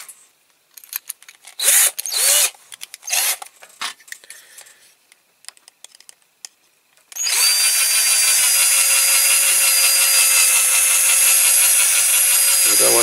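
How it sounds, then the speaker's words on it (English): Scattered scraping and tool handling, then a loud, steady high-pitched power drill whine runs continuously for several seconds at close range, drilling into a metal Corgi Toys Fiat 2100 model car. "I might drill it actually."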